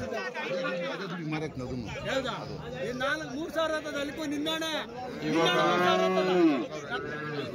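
Cattle, including HF calves, low and moo amid a busy outdoor weekly cattle market crowd at Chintamani, with people chattering nearby throughout.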